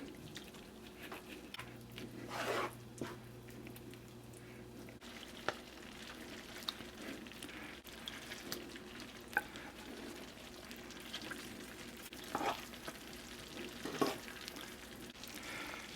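Mushrooms return to a pan of beef Salisbury steak patties and fry with a low, steady sizzle, broken by soft stirring scrapes, drips and occasional louder bursts, with no voices.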